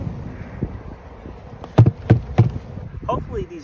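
A handful of bees buzzing around a hive box, several close passes whizzing by over a low outdoor hum, with brief sharp buzzes standing out.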